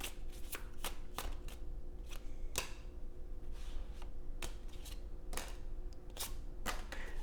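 Tarot cards being shuffled and drawn at close range: a string of crisp, separate card snaps and flicks at irregular intervals over a quiet background.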